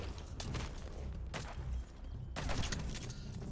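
Gunfire in the stealth action game Metal Gear Solid V: The Phantom Pain, with several bursts of shots and booms over a steady bed of game noise, loud and close.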